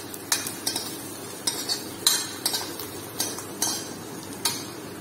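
Garlic stir-fries in a pan with repeated sharp metallic scrapes and clinks of a utensil, about a dozen uneven strokes over a soft background sizzle.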